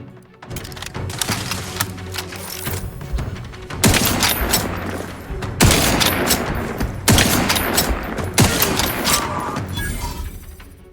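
Dense bursts of rapid automatic gunfire in the sci-fi shooter Outer Worlds 2 at Alexandra Monastery, loud sustained volleys with several surging waves and overlapping shots, no talking.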